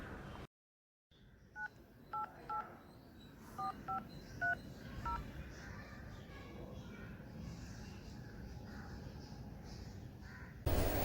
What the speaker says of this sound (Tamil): நான் எதுக்கும் வந்து இன்னொரு வாட்டி ராஜுபாய் கிட்ட கால் பண்ணி கேட்டுட்டு அப்புறம் உனக்கு திரும்ப கால் பண்ணுறேன்.